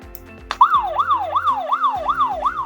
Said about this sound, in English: Now let's quickly test the siren by pressing the SOS button. Once pressed, the siren should immediately turn on.